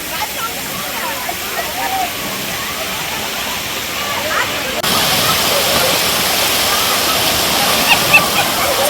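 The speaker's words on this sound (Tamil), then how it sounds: "தண்ணி மேலே இருந்து நல்லா கொட்டுது" Water pours down heavily from above at a theme park, a steady broadband rush that grows louder and denser midway through, with faint voices and splashing mixed in.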